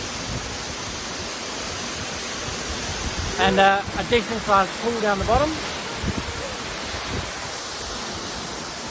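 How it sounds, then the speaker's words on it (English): A big waterfall at Blackrock near Kununurra in the wet season gives a steady, broad roar of falling water through the whole stretch, with someone speaking briefly over it partway through. "Quite a big waterfall."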